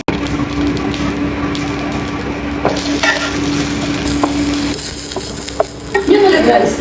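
Broccoli, onion and garlic sautéing in oil, a soft continuous sizzle with occasional scrapes and taps of a spoon against the pan, close and steady, with a faint tone in the background and no talk.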